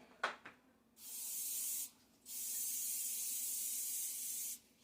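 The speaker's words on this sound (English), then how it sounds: "I'm gonna have to spray my hands" An aerosol spray can hisses in two long, steady bursts and a brief third as hands are coated while making Halloween desserts, close and bright, preceded by a few small clicks.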